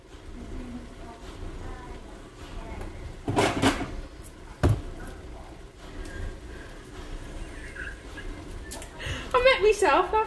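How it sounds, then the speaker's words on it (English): A kitchen door is shut during home cooking of lasagne, giving a couple of sharp knocks and a dull thud amid room noise and a voice speaking nearby. "I'll shut the door because you was born in a barn."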